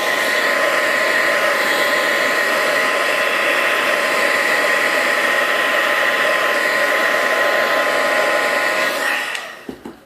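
A handheld blow dryer blows hot air onto a corded necklace to straighten it, a steady loud whooshing hum running unbroken for about nine seconds before switching off near the end.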